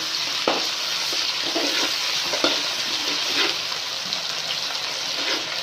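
Ginger garlic paste and crushed green chillies frying in a pan, a loud, close, steady sizzle with occasional stirring scrapes and pops throughout, no voice.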